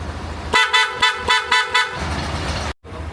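A Nelson horn set fitted to a Yamaha NMAX V3 scooter honks in five short, loud, evenly spaced beeps, close by, against a steady background hum.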